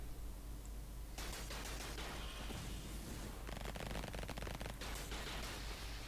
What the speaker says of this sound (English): And that's Uzza shooting at something.